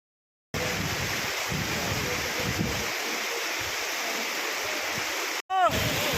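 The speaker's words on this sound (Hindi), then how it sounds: "वसुंधरा फॉल, जहां 400 फीट यानी कि 120 मीटर की ऊंचाई से गिरता हुआ पानी" Vasudhara waterfall near Badrinath, where water drops about 120 metres, roars as a loud, steady close rush with wind buffeting the microphone and a brief break near the end.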